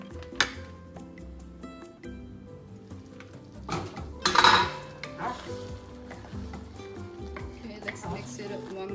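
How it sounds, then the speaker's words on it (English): Pork laing simmering in a pot is stirred with a utensil, giving continuous scraping and bubbling with a louder clatter midway, over a soft musical background. "let's mix it up one more time"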